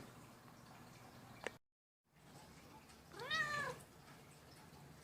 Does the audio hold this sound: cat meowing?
yes